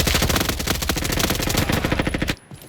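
Rapid automatic gunfire in a Roblox first-person shooter, a loud, dense burst of evenly spaced shots that cuts off abruptly near the end.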